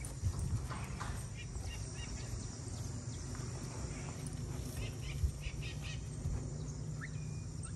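Horses walk on a ranch, their hooves clip-clopping in a loose, irregular rhythm at moderate distance, with faint birdsong and occasional rural background sounds around them.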